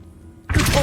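The Bombarda spell in Hogwarts Legacy erupts abruptly after near silence, a loud, close, sustained blast of broadband noise.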